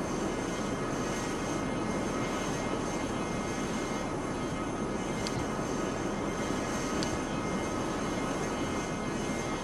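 Learjet 45 business jet engines in Flight Simulator X, a steady, loud broadband roar with a constant whine that holds evenly throughout with no talk over it.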